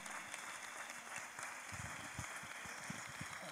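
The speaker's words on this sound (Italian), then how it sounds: "Per favore, fategli un altro applauso a loro." Faint, distant applause rolls through a theatre audience for the actors, a steady wash of clapping with low background rumble.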